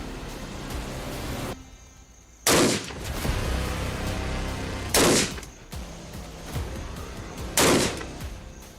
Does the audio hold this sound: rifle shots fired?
yes